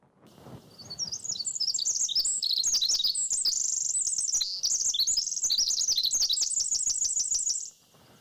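A recorded songbird song plays back, a long, rapid, varied warbling, bright and continuous for several seconds, clear and fairly loud with a faint background.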